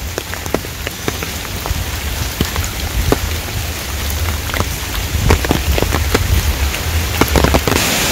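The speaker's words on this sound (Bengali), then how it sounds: "এরকম ঝড় শুরু হয়েছে যা বলার বাহির" A storm lashes a Bangladeshi village in the rainy season, with dense rain drumming on surfaces and scattered sharp cracks and thumps, loud and constant throughout with no talk.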